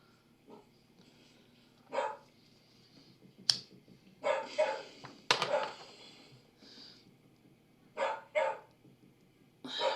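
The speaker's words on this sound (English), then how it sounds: "And the dog is grounding him back in the present." A dog barks in scattered bursts, with some single yips and some short runs of two or three barks over ten seconds, fairly close and unaccompanied, with quiet gaps between them.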